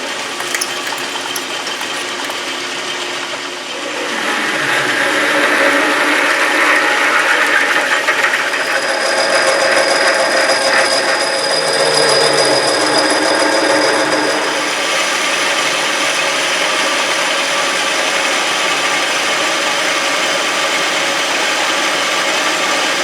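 A metal lathe cuts threads and a shoulder into a chuck backplate, giving a steady, loud machining hiss and whine with a faint high tone that swells partway through and then holds.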